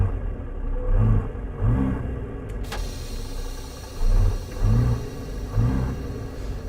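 Peterbilt 359 with a Big Cam engine in a driving game, heard muffled from inside the cab, revving up in several rhythmic low bursts that swell and fall back to idle.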